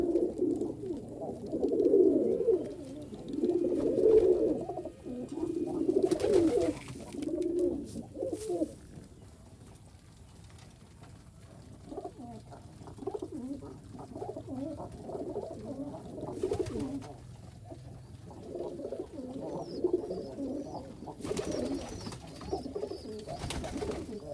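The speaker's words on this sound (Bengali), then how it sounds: "সুন্দর ডাকাডাকি করে কবুতরগুলো" Giribaz pigeons at a loft in Rajshahi coo in repeated soft, throaty phrases, close and fairly loud at first, then quieter and more scattered with a few overlapping calls.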